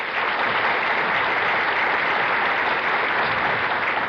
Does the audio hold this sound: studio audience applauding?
yes